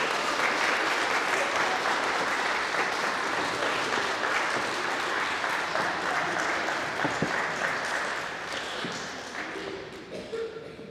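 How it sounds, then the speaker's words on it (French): A church congregation applauds steadily in a dense, sustained wave of clapping filling the room, gradually thinning and fading toward the end. "Nous pouvons quand même l'accueillir en l'applaudissant, s'il vous plaît."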